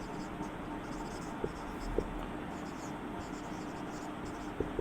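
Pen or marker scratching steadily during a Class 8 maths lesson on profit and interest, a continuous close scraping with a few faint taps, no talk over it.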